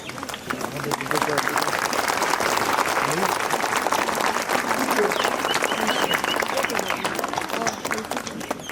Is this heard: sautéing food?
no